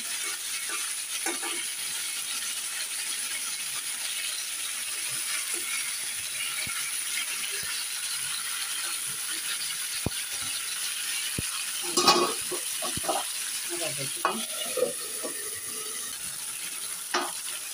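Potatoes and tomatoes fry in mustard oil in a pan, a soft, continuous sizzle with scattered clinks and scrapes as the pieces are turned over.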